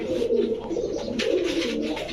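Pigeons coo steadily and close by, low warbling calls overlapping one another with a few rustles in between.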